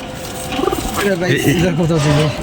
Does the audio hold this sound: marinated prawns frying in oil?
no